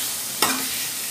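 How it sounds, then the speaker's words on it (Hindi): Food is mixed in a pan with one short scrape and clack against a steady, close sizzle. "तो देखो इसको मैं अच्छी तरह से मिक्स कर लेती हूँ"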